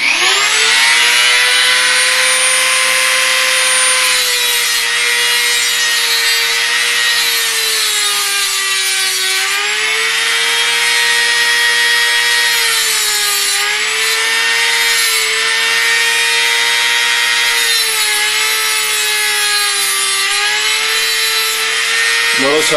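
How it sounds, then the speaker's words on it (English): A Dremel rotary tool's cutting wheel slices through a lockpick blank with a loud, steady, high-pitched grinding whine that holds for the whole stretch, its pitch wavering slightly as the wheel bites and eases. "Notice how I cut small chunks rather than letting the wheel grind everything away."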